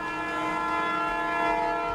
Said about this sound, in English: this train is actually moving at 40 miles per hour